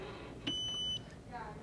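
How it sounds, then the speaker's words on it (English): A single steady electronic beep from a Breville espresso machine, clear and fairly close, held for about half a second in a quiet room. "Beeps already."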